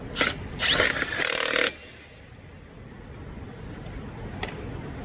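An impact tool spinning off a wheel lug nut, comparing Matco and Milwaukee tools: a short close burst of loud, rattling hammering about a second long, then quiet shop background with a faint tap or two.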